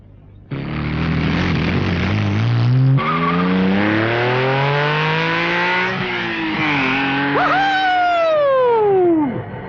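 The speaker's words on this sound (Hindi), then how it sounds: "क्या पिकअप है गाड़ी का। जरा सा एक्सीलेटर दबाया, हवा से बातें करने लग जाती है।" A car roars off loudly, its engine climbing through rising gear sweeps with a sharp tire squeal near the end, close and dominant with no talking over it.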